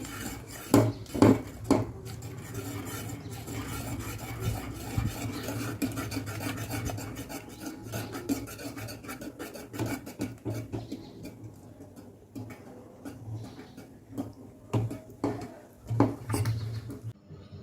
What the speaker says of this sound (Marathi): आता मी लाटण्यानं हा चीक मिक्स करते आहे